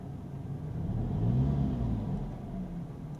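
A BMW 3 Series car engine hums low, rising briefly in pitch as it revs and then settling back down, muffled and fairly quiet.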